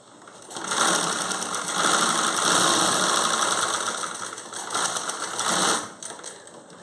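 A sewing machine stitches a blouse front on a dummy piece, whirring in a fast, even run that swells loud, dips briefly, then surges again before stopping.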